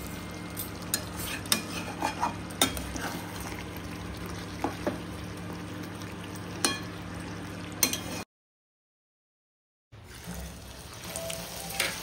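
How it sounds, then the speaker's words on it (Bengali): Chicken korma is stirred in a pot after garam masala and kewra water go in, giving soft scraping and wet sloshing over a low sizzle, with a brief total silence near the end before the cooking sound resumes. "1 চামচ সানরাইসের শাহি গরম মশলা দিলাম আর আধা চামচ কেওড়া জল দিয়ে ভালো করে নাড়িয়ে কিছু ঢেকে রেখে দিলাম।"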